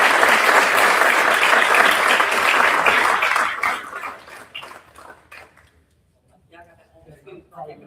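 A board meeting audience applauds state champions: loud, dense clapping for several seconds that thins into scattered claps and then fades, followed by quieter murmuring voices.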